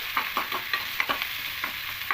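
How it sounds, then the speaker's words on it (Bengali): Sliced onions frying in a pan for lentil tarka, a steady sizzle under repeated scraping strokes of a spatula stirring at an even rhythm, close and moderately loud, no talking. "এবার একটু হালকা লাল লাল করে ভেজে নেবো"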